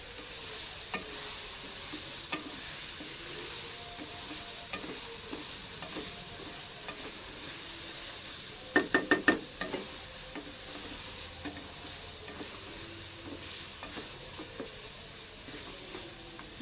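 Minced meat (qeema) fries in ghee with a low, steady sizzle while a spoon scrapes and stirs it in repeated strokes, with a brief cluster of sharp metallic knocks near the middle and no speech.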